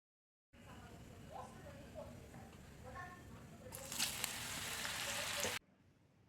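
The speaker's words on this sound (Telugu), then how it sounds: "సిమ్లో పెట్టుకొని మెల్లగా కలుపుతూ అవి ఫ్రై చేసుకోవాలి" Mushroom pieces frying in hot oil for a pickle, stirred slowly over low heat: a steady sizzle with soft stirring noises that swells into a loud, bright hiss, then cuts off abruptly.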